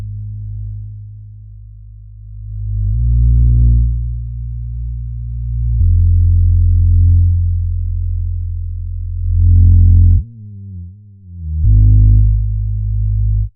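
Deep, smooth sub-bass tones from a sub enhancer plugin, soloed, sustained in long sections, shifting pitch and character between segments, with a brief wavering stretch near the end; no voices.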